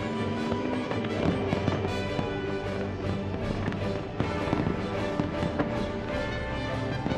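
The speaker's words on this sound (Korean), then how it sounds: "빛과 불꽃 소리와 연기가 하나로 합쳐져 보는 이의 눈과 귀를 즐겁게 만드는 불꽃놀이" Dense, continuous fireworks: a rapid crackle of pops and bangs overlapping without pause, loud and close throughout.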